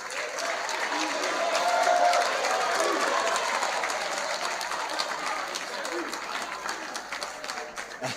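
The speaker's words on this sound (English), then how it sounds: "Please, a round of applause for Professor Awofeso." An audience gives a professor a round of applause at a live event, loud sustained clapping that swells early and slowly tapers, with some crowd murmur mixed in.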